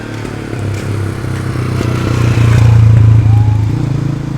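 Motorcycle on a mountain road between Chilas and Besham during a long-distance bike tour toward Khunjerab Pass, its engine droning steadily and swelling louder midway, with road clatter and no talk.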